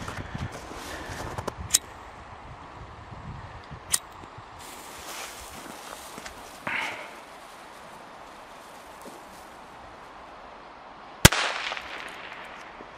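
Small New Year's firecrackers pop outdoors, a few sharp isolated bangs spread across the stretch, one much louder than the rest, with quiet rustling and footsteps between them.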